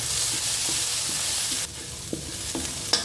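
Brinjals sauté with minced chicken and dried shrimp in a pan, giving a loud continuous sizzle that quiets partway through, followed by several distinct scraping stirs of a utensil against the pan, with no talking.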